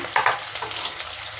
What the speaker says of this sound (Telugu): రెండు క్యారెట్లు తీసుకున్నాను నేను సన్నగా కట్ చేసుకున్నాను సరే వేగనిద్దాము